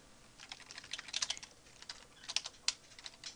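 Clattering keystrokes on a computer keyboard come in two quick bursts of typing, close and crisp, with short pauses and no talking.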